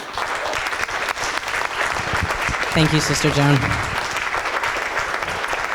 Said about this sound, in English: See you clapping over there.